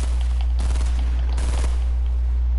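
Two bursts of rapid gunfire ring out in a Fortnite match, one early and a second a moment later, each a quick volley of loud shots over a steady low background hum.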